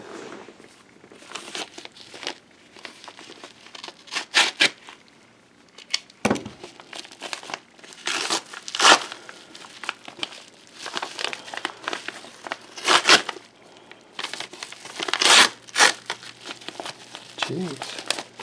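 Paper crinkles and tears in repeated bursts as a package of antique 19th-century German coins is unwrapped up close, the rustling uneven across the whole stretch, with no talking.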